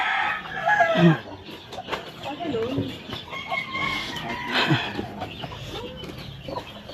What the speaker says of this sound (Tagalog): Nakakulong na manok.